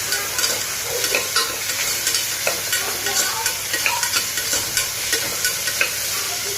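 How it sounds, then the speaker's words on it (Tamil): Carrots, beans and potatoes are stirred and sautéed with tomato in a hot pan, giving a steady close sizzle broken by regular scraping stirs throughout, with no talking. "இப்போ கேரட்டு, பீன்ஸு, உருளைக்கிழங்கு போட்டுக்கலாம். அதையும் போட்டு நல்லா வதக்கிக்கோங்க."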